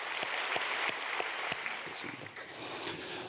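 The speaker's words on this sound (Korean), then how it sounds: "하나님 앞에 영광의 박수 올려드리겠습니다" A church congregation claps in unison in a large hall, steady dense applause with a few sharp louder claps standing out, no talking over it.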